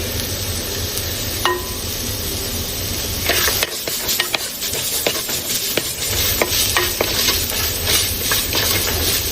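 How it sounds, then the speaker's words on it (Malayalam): Onions with salt fry in a pan for a quick egg rice, a steady loud sizzle filling the background while a utensil stirs with scattered scraping clicks. "വേഗം ഒന്ന് വാടാൻ വേണ്ടിയിട്ട് നമുക്ക് കുറച്ച് ഉപ്പിട്ട് ഇളക്കി കൊടുക്കാം"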